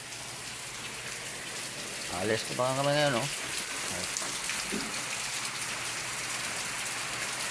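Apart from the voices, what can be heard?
rain falling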